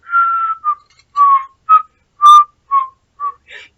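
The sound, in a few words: whistling imitating a bird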